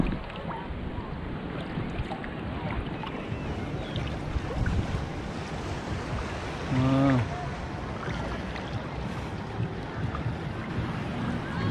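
Ocean waves wash onto a sandy beach under gusty wind buffeting the microphone, forming a constant broad rush, with a brief voice-like sound about two-thirds of the way through.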